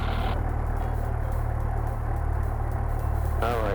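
A Cessna Skyhawk's piston engine runs steadily in flight, a constant loud droning rumble with low harmonic hum throughout, while cockpit radio talk and voices sit faintly over it.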